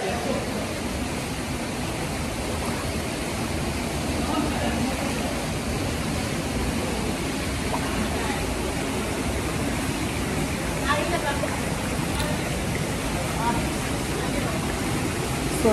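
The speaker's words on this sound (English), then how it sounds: "So I have a waterfall here." Water pours steadily down a waterfall in the Philippines, a dense, continuous broadband rush that stays loud and unbroken throughout, close by and with no pauses.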